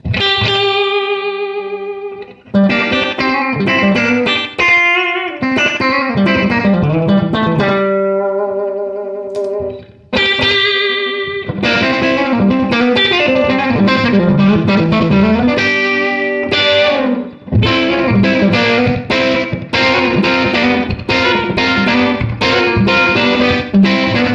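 Electric guitar played through a Wren and Cuff Suppa Phat Phuk germanium boost pedal gives gritty, overdriven chords and single-note phrases, with a few short pauses between them.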